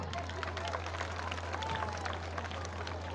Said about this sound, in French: Applaudissez-vous, les enfants.